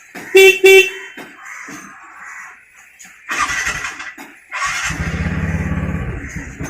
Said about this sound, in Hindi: अब देखना है सेल्फ या हॉर्न काम कर रहा है कि नहीं कर रहा है